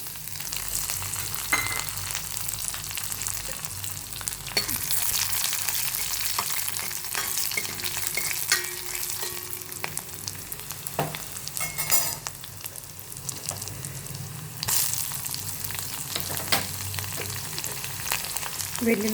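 Garlic with cumin, urad dal, chana dal, green chilies and curry leaves sizzles and crackles in hot oil, a steady close frying hiss with occasional pops and stirring scrapes, no voices.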